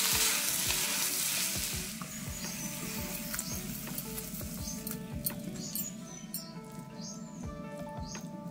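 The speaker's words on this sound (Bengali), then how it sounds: "এবার এটাকে নেড়ে চেড়ে বন্ধ করে দেবো।" Paneer sizzles and fries in a pan while being stirred, a steady close crackle with scraping stir strokes throughout.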